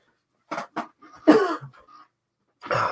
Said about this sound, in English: Oh dear, don't start me coughing again.